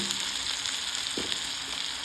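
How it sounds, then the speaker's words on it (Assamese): Chopped onions fry in hot oil in a wok, giving a continuous bright sizzle with a faint stirring scrape partway through, close by and steady, with no talking. "প্ৰথমতে তেলখিনি গৰম হৈ পিনি কাটি থোৱা পিঁয়াজখিনি দি দিছোঁ।"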